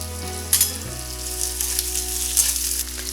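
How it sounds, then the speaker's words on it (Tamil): Chopped onions sizzle steadily as they fry in a pan for a home-style Punjabi chana masala, a loud, continuous crackling hiss with a couple of brief bursts, no voices. "வெங்காயத்தை சேர்க்குறேன்."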